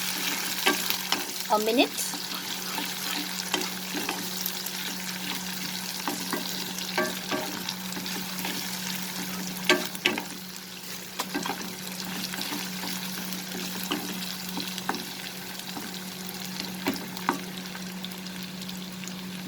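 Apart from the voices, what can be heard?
ginger garlic paste sautéing in a pan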